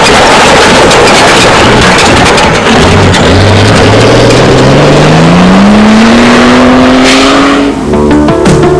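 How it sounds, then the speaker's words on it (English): A tired-sounding Toyota Land Cruiser rally car at the 1987 Toyota 1000, its engine loud and close, revving steadily upward in pitch as it accelerates hard under heavy background roar. "the big Land Cruiser looks and sounds distinctly tired"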